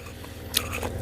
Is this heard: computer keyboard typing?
no